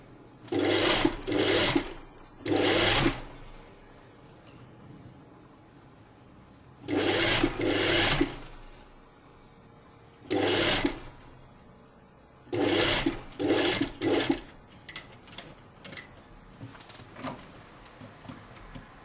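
Sewing machine stitching a hem, running in short, close bursts of rapid mechanical clatter separated by pauses, with a few quick stitches near the end.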